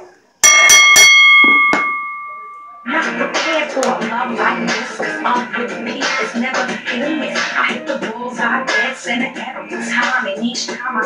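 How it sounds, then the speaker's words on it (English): A wrestling ring bell rings right after a three-count pin, several sharp metallic dings in quick succession close up, followed by a loud cheering arena crowd. "Ring the bell."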